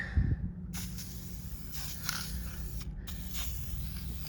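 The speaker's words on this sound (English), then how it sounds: "You literally just spray down like spray paint." Bursts of steady hissing spray from a spray paint can onto chairs, repeated several times with short pauses, close and fairly loud against a low background hum.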